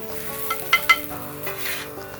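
Breakfast hash with green onion is stirred on a grill: a low sizzle runs under a few scraping spatula strokes and a couple of sharp metallic taps, all close.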